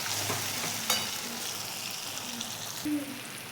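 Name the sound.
tomato and red chutney frying in oil with stirring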